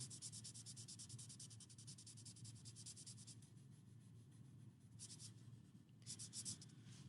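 Graphite pencil shading across paper makes a steady, dry scratching with rapid back-and-forth strokes, faint and close, pausing for a few seconds before short renewed bursts.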